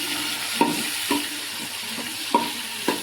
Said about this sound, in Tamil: தக்காளி போட்டு கொஞ்சம் நல்லா வதக்கிக்கலாம்